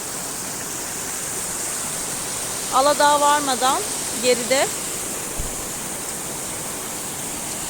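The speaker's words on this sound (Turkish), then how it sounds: "Büyük şelale. Burası Aladağ Yedi Göz Şelalesi." Steady broadband roar of the large Yedi Göz waterfall at Aladağ, Adana, close and constant throughout, with a voice talking briefly over it in the middle.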